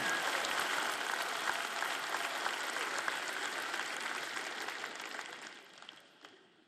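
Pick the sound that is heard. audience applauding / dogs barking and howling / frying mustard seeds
audience applauding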